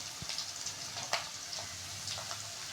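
Onions frying in a pan for egg fried rice, a soft, steady sizzle with faint crackles and an occasional stir, heard alone.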